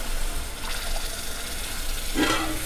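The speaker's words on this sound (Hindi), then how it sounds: "सो ये चावलों के लिए पानी चढ़ाया है।" Tap water runs steadily into a cooking pot for boiling rice at home during a birthday lunch, a continuous splashing gush that swells louder near the end.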